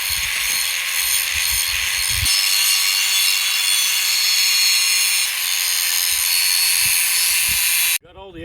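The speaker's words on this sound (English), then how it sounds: "We'll switch out the cutting wheel, put the grinding wheel on, clean our edges real good, get bare metal" A grinding wheel on an angle grinder scrapes the edges of steel pieces down to bare metal while building a heavy-duty compact fire pit. The harsh whine runs loud and steady, close by, and stops abruptly near the end.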